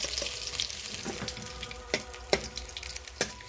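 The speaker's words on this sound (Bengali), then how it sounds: "সব মাছগুলো আমি এইভাবেই ভেজে নেব।" Fish frying golden brown in hot oil gives a steady close sizzle with scattered sharp pops and crackles, heard alone without voices.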